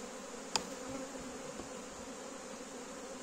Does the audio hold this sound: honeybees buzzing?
yes